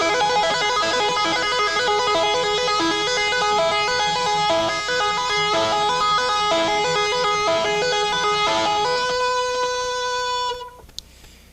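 Electric guitar tapping run played mostly with the first finger, heard in a 1984 instructional lick: a fast, continuous cascade of bright legato notes that is loud and close, ends with a ringing note and a faint click.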